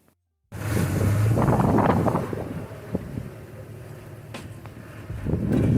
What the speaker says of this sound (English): The wind is blowing it.